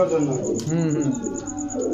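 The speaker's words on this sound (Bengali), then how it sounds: "দর্শক দেখেন এই যে নিজের খাঁচায় এসে এখন ডাকাডাকি করতেছে, এই হচ্ছে ফাজিল একটা কবুতর" A blue barless Lahori pigeon coos repeatedly inside its cage, close and fairly loud, in a continuous run of throaty calls.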